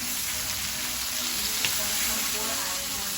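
Shrimp fry in a hot pan for Jamaican-style shrimp fried rice, giving a steady, close, even sizzle that runs unbroken throughout with a small pop midway.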